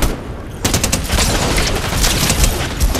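Dense automatic gunfire in a video game, a loud rapid burst of overlapping shots starting abruptly and rattling on without pause, close and harsh.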